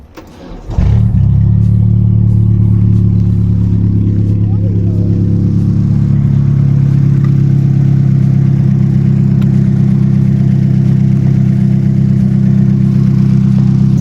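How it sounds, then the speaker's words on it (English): An Opel Astra F engine cranks briefly and catches, then settles into a steady, loud idle with a deep even hum, running on alone close by. "Basically this is how the car runs."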